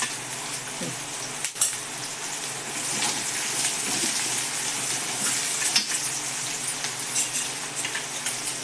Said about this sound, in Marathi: आता आपण त्यात टाकू आलं लसूणची पेस्ट